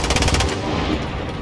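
Video-game gunfire rattles in a rapid, close machine-gun burst that fades into a noisy rumble, loud and without speech.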